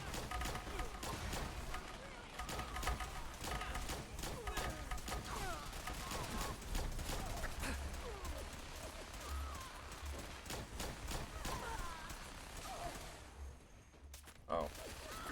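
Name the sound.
minigun gunfire in video game Fallout 4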